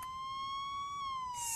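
A police car siren in an animated episode gives a loud, steady, high wailing tone that sweeps slowly, with a brief burst of hiss at the end.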